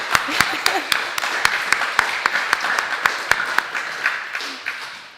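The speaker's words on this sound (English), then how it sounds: "let's give them a round of applause" Steady applause from a crowd at an induction ceremony, with sharp individual claps standing out in a regular rhythm over the continuous patter.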